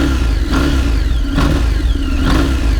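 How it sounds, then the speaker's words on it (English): Big V-twin engine of a Morbidelli T1002VX motorcycle, close by the exhaust, revving in three sharp blips over a steady low idle rumble, loud and without talk. "There's the heart of the beast, the big V-twin."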